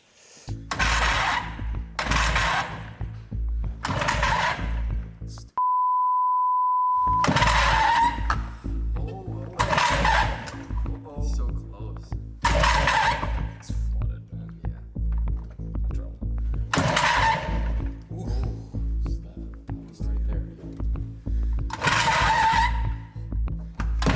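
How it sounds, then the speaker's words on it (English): An old boat engine on a restoration project is cranked again and again, a starter grinding in repeated bursts of a few seconds each with short pauses, loud and close, with a brief steady tone between attempts. "let's see if the engine starts"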